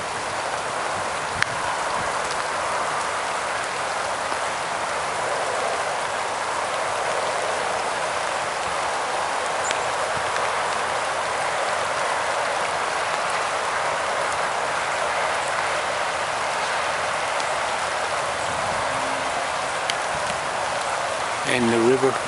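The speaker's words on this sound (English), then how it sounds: "One lonely bird in this pouring down rain" Steady pouring rain near a flowing stream, a constant even hiss of drops lasting the whole stretch with a few faint bird chirps toward the end.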